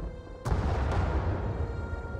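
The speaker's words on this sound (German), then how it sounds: "Hört sich an, als kämen die Bomben näher." A deep boom from a bomb exploding nearby in Star Wars The Old Republic, a sudden heavy blast followed by a rumbling roar that lingers and slowly fades.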